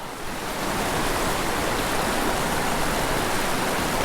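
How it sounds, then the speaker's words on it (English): Steady rushing water from a small waterfall in a stream, a constant broadband roar close by, with no voices. "Don't go over the little waterfall."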